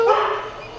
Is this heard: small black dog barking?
yes